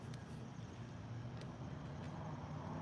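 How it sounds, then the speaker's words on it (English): A vehicle engine idles or passes behind on a street, a steady low rumble at moderate distance, faint and continuous with no talk over it. "There's an engine sound behind me."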